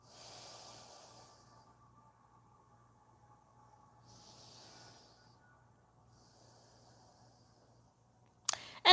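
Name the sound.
breathing through the nose during yoga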